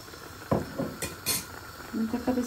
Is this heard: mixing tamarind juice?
yes